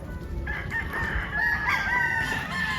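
Roosters crow and chickens cluck among a batch of early bird banded fowl, overlapping calls ringing out fairly close over a constant background murmur.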